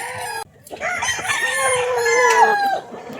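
A gamefowl rooster of Kelso, elevator or bulik breeding crows once loudly and close, a long wavering cock-a-doodle-doo preceded by a brief cluck, set against a quiet farmyard.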